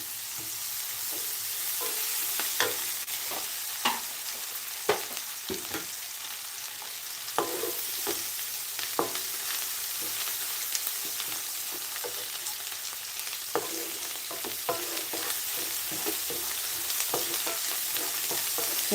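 Ginger paste, along with dal, frying and being stirred in a pan for a cluster bean curry, with a continuous close sizzle broken up by frequent scraping clicks from the stirring utensil.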